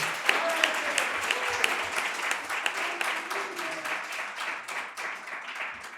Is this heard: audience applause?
yes